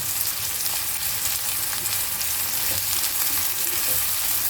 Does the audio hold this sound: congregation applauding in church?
no